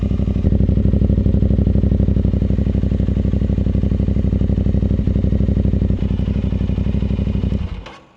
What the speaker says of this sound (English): let's come back here and listen to an idle